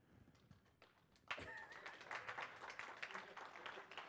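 A conference audience at a FOSDEM developer room breaks into applause after a live demo, scattered claps at first, then a fuller burst of clapping that holds to the end.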